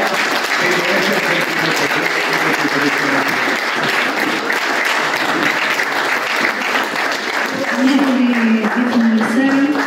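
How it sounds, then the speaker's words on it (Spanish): An audience at a historical society talk bursts into sustained, dense applause, loud and close throughout, with a voice speaking briefly near the end. "El aplauso para ustedes"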